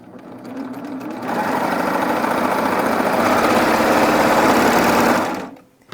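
A serger sewing machine runs steadily for about four seconds while stitching ruffles into fabric, a loud, even, close-up mechanical whir that starts and stops cleanly with no talking.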